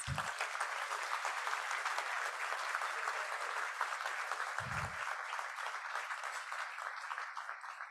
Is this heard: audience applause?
yes